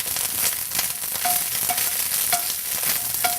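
Garlic sautés in a pan, giving a dense, steady sizzle close by, broken by regular stirring scrapes and brief squeaky utensil tones, with no speech.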